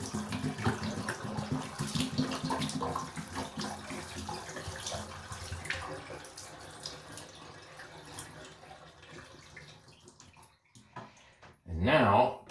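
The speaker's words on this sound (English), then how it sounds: "It's just a bunch of clean water. I'll dump the rest of this." Clean water poured out of a Hoover SpinScrub50 carpet cleaner tank, a steady splashing pour that runs for about ten seconds, thins out, then ends with a brief louder gush.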